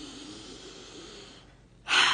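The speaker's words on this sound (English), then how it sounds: "Deep breath in." A deep breath drawn in through the nose and mouth, a soft, steady airy inhale that fades, then a sharp louder rush of breath at the end, close and alone without talk.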